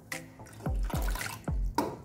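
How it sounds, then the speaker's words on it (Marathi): Water is poured into a pan of tempered dal in several short splashing bursts, each pour sloshing briefly before a pause, close and fairly loud. "आता याच्यात गरजेनुसार पाणी घालून घ्या"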